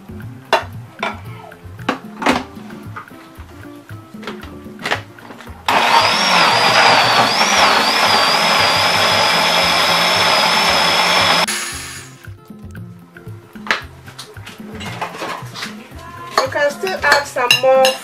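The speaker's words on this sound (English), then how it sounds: "I'm going to blend it with the tomato plum." Kitchen blender whirring loudly as it purees chili pepper with plum tomato, a steady motor roar lasting about six seconds then spinning down, framed by clattering utensils and someone talking before and after.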